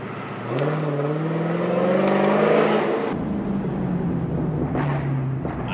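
A Hellcat engine revs up loudly nearby, its drone rising in pitch before a sharp exhaust crackle pop and a rougher, rumbling exhaust as the revs settle.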